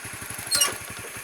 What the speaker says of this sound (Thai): ดับเครื่องรถก่อน